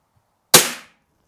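One sharp, loud shot from a KWC CO2 blowback airsoft pistol cracks out of silence and decays quickly.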